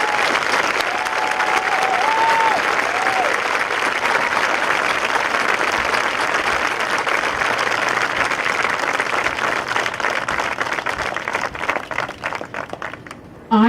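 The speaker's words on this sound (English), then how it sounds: "Please give our top 100 recipients a round of applause." An audience applauds award recipients at a student recognition program, a sustained dense round of clapping from many people that stays loud for most of its length, then thins and tapers off near the end.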